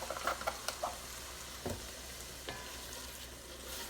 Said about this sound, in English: We're going to let this simmer for just a few minutes.